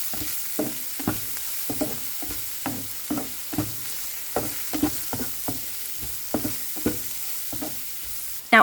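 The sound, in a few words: stirring rice ingredients frying in a pan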